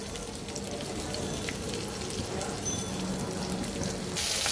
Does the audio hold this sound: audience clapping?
no